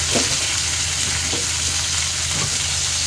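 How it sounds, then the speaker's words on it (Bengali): Fish fries in oil in a frying pan with a steady, close, loud sizzle and no break, and there is no talk. "এপিট ওপিট উল্টিয়ে মাছটাকে আমি ভালো করে ভেজে নিয়েছি"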